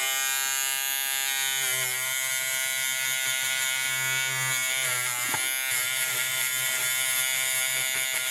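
Battery-operated stitch remover running on AA rechargeable batteries, cutting through satin-edged embroidery stitches: a steady, close electric buzz that holds throughout with slight shifts in pitch as it moves along the fabric.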